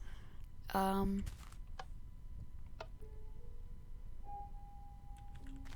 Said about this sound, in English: so I'll just type in the code, and hit enter